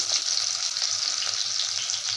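Steady, bright sizzling of shallots frying in hot oil, continuous crackle without pauses or voices.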